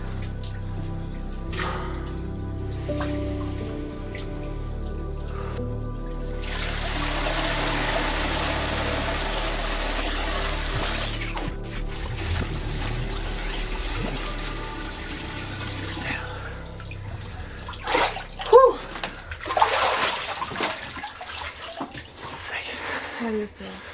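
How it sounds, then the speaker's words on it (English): Water in a two-degree ice-cold bath sloshing and pouring, with a steady rushing wash in the middle section and sharper splashes near the end, mixed with breathing and other background noise. "Right, time for the hero's bath. 2 degrees, ice cold water."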